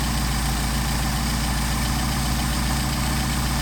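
A Mercedes 190SL engine idles at around 800 RPM during Solex carburetor adjustment, a steady, loud, continuous low rumble with no change in pace.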